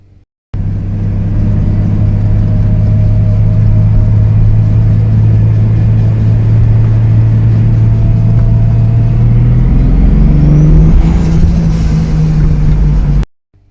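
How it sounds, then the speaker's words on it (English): A Toyota Supra mk3 on a test drive, heard from inside as a loud, steady engine and road rumble that rises in pitch as it accelerates near the end, then cuts off. "But first, a clip from the test drive."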